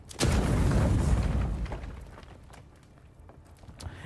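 A grenade explodes in the fantasy action game Avowed with a heavy, close boom that rumbles low and slowly fades over a few seconds, followed by scattered faint clicks and movement.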